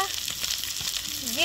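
Green chillies with ginger and garlic paste frying in oil for a village-style picnic dish, giving a loud, continuous bright sizzle and crackle through the whole short stretch.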